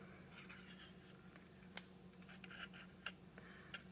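A handheld paper punch cuts through a strip of designer paper, giving a few quiet, sharp clicks spaced over a few seconds against a soft background hiss.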